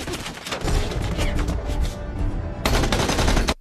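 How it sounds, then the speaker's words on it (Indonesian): Rapid gunfire from a film shootout, dense bursts of automatic shots rattling loud and close, briefly thinning before a final heavy volley that cuts off abruptly. "terlibat baku tembak dengan para musuh"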